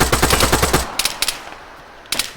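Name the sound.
gunfire in a video game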